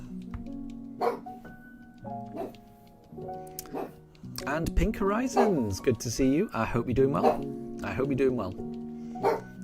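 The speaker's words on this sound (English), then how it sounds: "he heard something outside, and then suddenly he's barking" A pet dog indoors barks at something heard outside, with a few short, sharp barks and yips scattered through the stretch, mostly under a person's steady talking.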